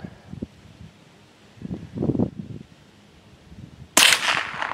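An air rifle fires a sharp outdoor shot at a golf ball, a single crisp crack near the end following quiet rustling and faint wind.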